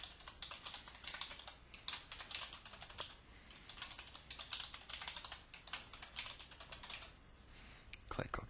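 A password typed on a computer keyboard during encryption software setup: a quiet, steady run of rapid keystrokes with uneven rhythm, ending in a firmer key press.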